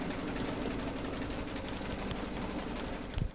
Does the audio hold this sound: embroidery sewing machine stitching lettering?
yes